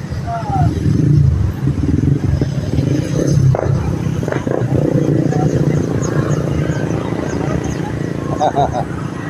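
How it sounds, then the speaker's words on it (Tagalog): Several motorcycles revving and idling at a roadside stop near Antipolo, engine rumble rising and falling close by, with clatter and people talking over it. "mga motor na nagpaparangking"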